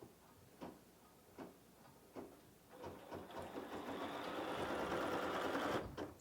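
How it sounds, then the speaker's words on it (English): A BERNINA 790 embroidery machine starts with a few spaced thumps, then settles into a steady, fast mechanical stitching whir while embroidering a snowflake design, close and fairly loud, with no talk. "When you're ready to stitch, gently hold on to the thread and push the green blinking light."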